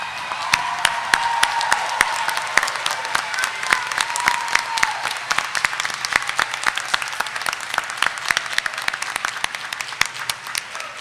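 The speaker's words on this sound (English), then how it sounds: "Audience, please stand and applaud the new graduates" A graduation ceremony audience claps for the new graduates, dense sustained applause filling the hall at first and then thinning into scattered individual claps.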